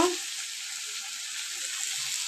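Mixed spice paste hits hot white oil for a katla fish curry with potato, cauliflower and peas, bursting into a loud, hissing sizzle that holds steady and close with no voices over it.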